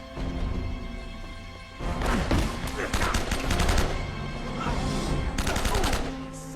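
Bursts of video-game gunfire from blind firing in Uncharted, clustered volleys of shots over several seconds, with a background hum and no talk.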